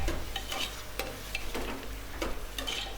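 Tomatoes sauté in a pan for tomato biryani, with a steady sizzle under repeated scraping strokes from a stirring spoon, close and moderately loud.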